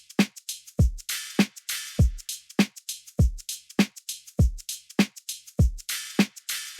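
Indie dance drum beat built on a sample flip, with a punchy kick landing steadily about every 0.8 seconds, busy bright hi-hat and shaker ticks between, loud and alone without voices.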